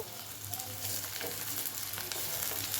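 Small pieces of ginger sizzle in hot oil in a pan, giving a soft, continuous crackling fry at moderate volume with a faint low hum beneath.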